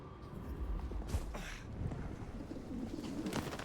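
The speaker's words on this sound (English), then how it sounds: "Birds." Pigeons or doves coo in a Vampire: The Masquerade Bloodlines 2 game scene, soft repeated calls over a steady ambient bed with light wind-like noise, no one speaking.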